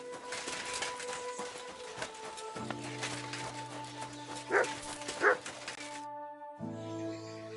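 A dog in the video game Kingdom Come Deliverance 2 barks and whimpers in short yips over faint background ambience and game music, with two louder bursts near the end.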